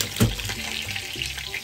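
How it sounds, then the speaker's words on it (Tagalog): Fish sizzles as it fries in a pan during home cooking, a steady broadband crackle with a brief louder burst near the start and no talking. "Naririnig nyo, nagpiprito ako ng isda."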